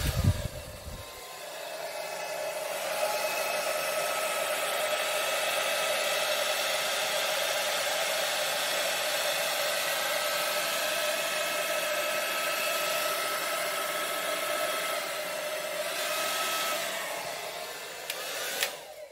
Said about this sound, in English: So here we go with the blower.